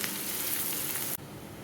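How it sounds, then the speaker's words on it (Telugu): Onions frying in a pan for a spicy garlic-chili egg dish, a dense steady sizzle and crackle that runs close and loud, then suddenly drops to a quieter hiss partway through. "ఉల్లిపాయలు మొత్తం ఈ విధంగా ఫ్రై అయిపోయిన తర్వాత"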